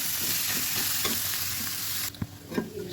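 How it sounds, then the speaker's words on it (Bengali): Leafy greens stir-fried in a pan: a dense, close sizzle with regular stirring scrapes, which thins abruptly near the end, leaving softer clinks and crackles. "এখন এটার মধ্যে শাকটা দিয়ে দিই"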